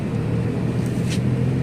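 Manila street traffic around High Street in Bonifacio, a steady close rumble of idling and passing cars.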